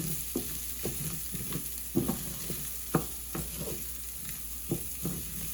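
Risotto rice toasting in a hot pan, gently sizzling while a spoon stirs it in a slow, uneven rhythm of soft scraping strokes, close and fairly quiet with no talk.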